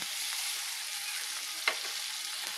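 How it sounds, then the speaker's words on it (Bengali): Masala spice paste mixed with a little water frying in a pan after the onions have browned, a steady soft sizzle throughout with one brief scrape or clink near the middle. "মশলাটা একটু কষিয়ে তারপরে মাছটা দেবো। তাহলে মশলাটা একটু কষিয়ে নিই।"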